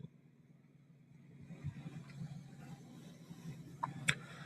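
A truck hauling a high-value load idles and hums with a low, steady engine drone that grows a little louder, broken by a few faint clicks and one sharp tick near the end.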